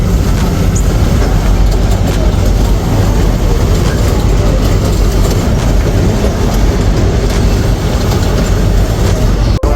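The Matheran toy train on its hill railway runs with a loud, dense, continuous rumble and rattle of wheels and carriages, steady throughout.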